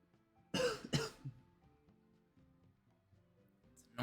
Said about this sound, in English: Ever since I had COVID, I've had this bit of a cough on and off